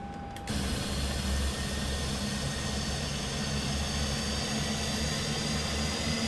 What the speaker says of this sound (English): Starting engines 1, 2, 3, 4 in that sequence, and we're beginning with engine number 1